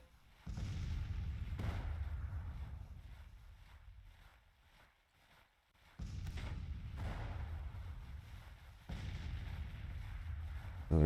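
Artillery in the Grand Tactician strategy game booms out in deep, heavy blasts, each long rumble swelling and slowly fading, with one louder onset and later blasts overlapping into sustained low roar.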